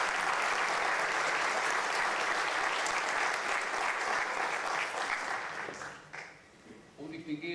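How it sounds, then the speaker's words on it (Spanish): Applause from a seminar audience in Peru, a loud, dense burst of clapping that holds steady for several seconds, then fades out as a voice begins to talk. "Un fuerte aplauso."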